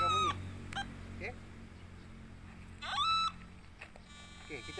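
A metal detector sweeps over a manhole cover and gives several short rising electronic beeps, scattered and moderately loud, while someone talks between them.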